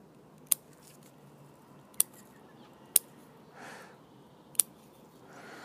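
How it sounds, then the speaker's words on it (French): Four sharp snips of scissors cutting shoots on a Premna japonica bonsai, spaced a second or so apart, close and crisp, with a soft rustle of foliage between cuts and no talking. "On va couper déjà tout ce qui monte vers le haut."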